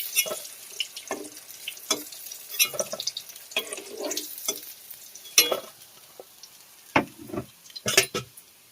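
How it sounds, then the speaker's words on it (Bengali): Fish pieces frying in oil crackle and hiss in short bursts, with clattering handling and stirring sounds spaced irregularly, close and moderately loud, no one speaking. "আবার একইভাবে মাছগুলো ভেজে নেব।"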